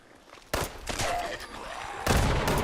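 A grenade goes off amid combat in the video game Fallout 76. Loud, booming blasts with crackling gunfire-like bursts hit at close range, and a second heavy burst follows a moment later.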